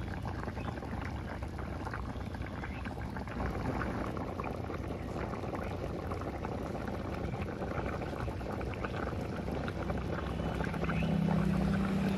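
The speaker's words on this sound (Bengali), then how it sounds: "আরো 2 মিনিট একটু ভালো করে ফুটিয়ে নেব।" A pot of Bengali katla fish curry with wild yam boils on the stove, giving a steady, close bubbling and simmering that continues unbroken, with no voices.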